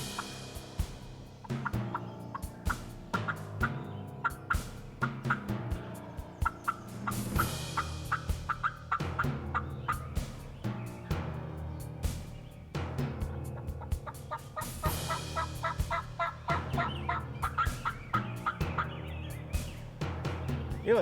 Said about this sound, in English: There was hens yelping in a lot of different trees